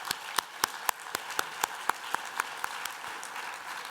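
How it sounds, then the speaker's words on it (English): Sparse applause from a conference audience honoring the NARUC chairman, a handful of distinct, evenly spaced claps heard faintly and alone. "I think that warrants a hand of applause."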